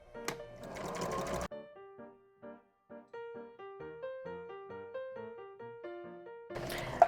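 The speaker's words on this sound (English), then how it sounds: "you are going to sew your apron pieces together. You're going to do a couple stitches and then reverse." A domestic sewing machine stitches apron pieces together in short bursts of whirring, a few stitches then a pause and reversal, heard close and alone with no talk, with brief louder handling noise at the start and end.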